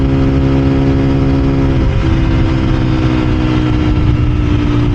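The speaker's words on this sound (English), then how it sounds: "Now, this is a very, very slow motorcycle." Slow motorcycle engine while riding, a loud continuous low rumbling drone with steady pitch and a slight shift midway, close and unbroken for the whole stretch.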